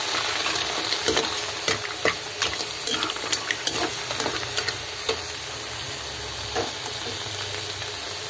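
Papaya and mussels boil in water in a pot, a steady bubbling simmer with scattered pops and soft clinks, close and continuous without any talk.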